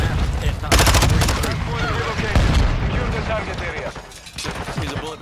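Vaznev rifle fire in a Call of Duty match, loud bursts of rapid automatic shots with explosive booms between them, layered under players talking over voice chat.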